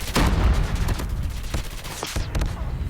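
Rapid gunfire rattles through a Hardpoint match in Call of Duty Mobile, dense overlapping bursts and single shots packed closely throughout, loud and near with no pause.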